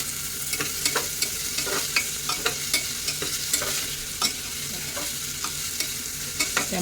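Tomatoes sautéing in hot oil with browned onions for a homemade ghevda bean curry, a continuous sizzle broken by regular scraping clicks of a spoon stirring the pan.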